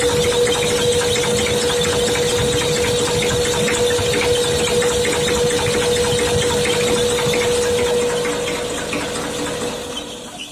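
A tractor engine runs steadily and loudly up close, with a constant droning hum and a persistent whine, fading slightly near the end.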